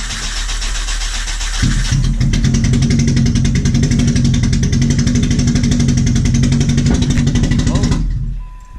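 A 2005 Nissan Sentra SE-R Spec-V with newly installed headers and exhaust fitted only up to the mid pipe cranks and fires up, settling into a loud, raspy, steady idle that runs several seconds before cutting off.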